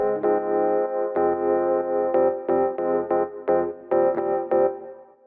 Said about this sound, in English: The second sound is a Rhodes piano